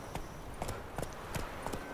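Horse hooves clip-clopping in The Witcher 3, a steady series of sharp hoof strikes at an even trotting rhythm, moderately close over a soft ambient bed.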